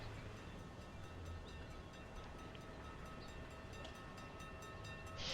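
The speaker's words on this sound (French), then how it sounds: "C'est un train qui va très vite." A fast train rushing past in the railway-building game Streamlined, a faint, steady rolling rumble with light rhythmic ticks and a brief rise in noise at the very end.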